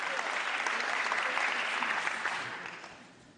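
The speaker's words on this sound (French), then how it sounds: "merci d'applaudir très chaleureusement Nadia Latiris" Warm audience applause at an awards ceremony for a trophy presentation, dense and steady clapping that fades out over the last second.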